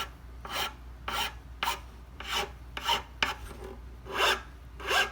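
Small file putting a chamfer on the edges of a violin nut, heard as about nine short, soft rasping strokes at a steady, unhurried rhythm, close by in a quiet room.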